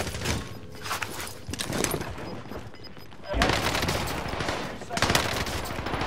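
Gunfire from the video game Call of Duty: Modern Warfare, loud bursts of automatic fire in several waves, the heaviest in the second half, with speech mixed in among the shots.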